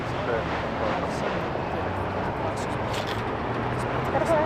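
A Boeing 777 taxiing fast at Las Vegas airport gives a steady, broad jet rumble and hiss that holds constant throughout, fairly close and loud, with no talk over it.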